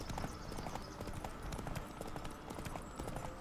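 A horse gallops in The Witcher 3 video game, a fast, steady clip-clop of hooves close and continuous over rushing game ambience.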